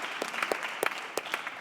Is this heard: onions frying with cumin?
no